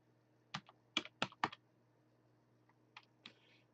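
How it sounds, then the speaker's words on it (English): A computer keyboard clicks in a quick burst of four keystrokes, pauses, then gives a few softer, scattered taps, close to the microphone in a quiet room. "Keyboard sounds, browser sounds."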